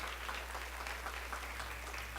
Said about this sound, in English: let's give Christy a round of applause